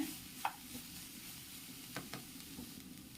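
Long beans and carrot thoran are stirred in a pan, giving a faint low sizzle with a few soft scraping knocks from the spoon, quiet and close.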